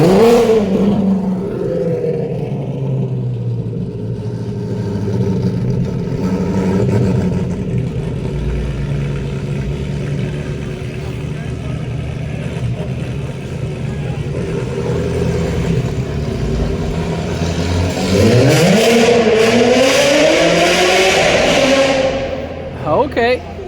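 A Lamborghini Aventador V12 idles with a deep continuous rumble in a street in the heart of Auckland, New Zealand, then rises into a loud rev near the end, close and sustained without talk.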